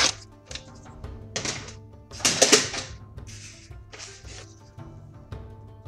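A 1/4 inch strip of material is cut by hand as a few sharp snips and clicks come in quick bursts, close and fairly loud, over a faint steady hum.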